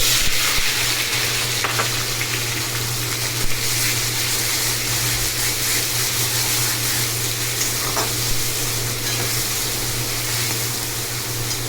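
Onion paste and green chilli paste fry in a hot pan with a loud, steady sizzle and crackle, the constant hiss broken by occasional stirring scrapes.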